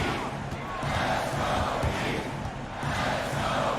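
A basketball arena crowd in a video game roars in a steady, loud, continuous swell, with faint bellows and cheers mixed in and no clear speech.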